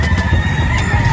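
Roosters crow at an early-morning poultry market in Bocaue, a brief loud call over a busy, rumbling background.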